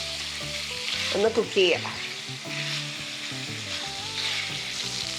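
Large pieces of mutton frying over a high flame for Rogan Josh sizzle steadily and loudly in the pan, with a few brief clatters partway through and a short spoken remark.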